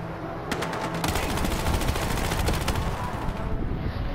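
Rapid automatic gunfire from the video game Battlefield Hardline, a loud sustained burst of closely spaced shots lasting several seconds before trailing off, with no talk.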